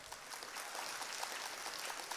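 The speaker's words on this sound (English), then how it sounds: "Please, let's give him a round of applause as well." An audience gives a round of applause at a Delta State security trust fund event, a faint, steady wash of many hands clapping throughout.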